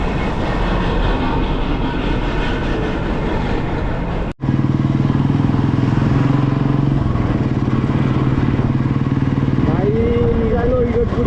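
A Royal Enfield motorcycle sets off on a ride from Igatpuri toward Nashik, its engine a steady, loud rumble with wind noise. A brief dropout is followed by a smoother hum and a rising tone near the end.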